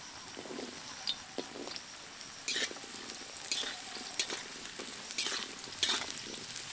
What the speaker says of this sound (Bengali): যে সবজিগুলো আমি এখানে নিয়েছি তার মধ্যে আলু আর গাজরটাকে আমি একসাথে ভেজে নেব